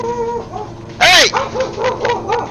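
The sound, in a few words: dogs barking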